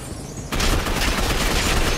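Video game gunfire breaks out as a sudden loud burst of rapid shots that continues as a dense, sustained volley after a quieter opening moment, with no talking.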